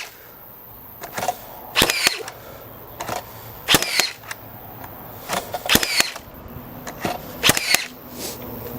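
A Makita 18V cordless framing nailer drives nails into hard old timber: about five loud, sharp, close bangs spaced roughly a second apart, each with a brief mechanical clack, over a faint background hum.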